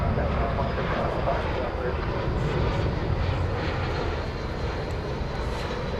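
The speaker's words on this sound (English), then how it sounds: "off to Guadalajara goes American Flight 2313 on a 737-800." An American Airlines Boeing 737-800 takes off at a busy airport, its jet engines producing a loud, steady broadband roar that fills the whole stretch without letup, with a voice talking over it.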